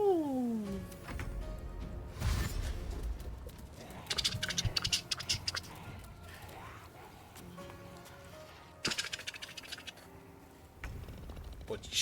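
A cat in Baldur's Gate 3 gives a drawn-out falling meow, followed by soft scratching, pattering steps and scattered game effects at a quiet level.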